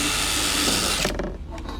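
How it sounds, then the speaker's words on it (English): A power drill with a Bosch blue-tip bit whirs steadily at close range for about a second while drilling a pilot hole in fibre cement cladding board, then winds down and stops, leaving a quiet rattle. "So what I have to do is I have to drill"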